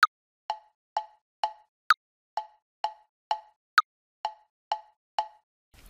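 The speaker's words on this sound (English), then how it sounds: "To switch the metronome on, we click it and it turns from white to green." The BandLab software metronome ticks in a steady, even pulse. A higher, sharper click accents the first beat of every four-beat bar, and the lower clicks fill the beats between. The ticks are clean and isolated against silence.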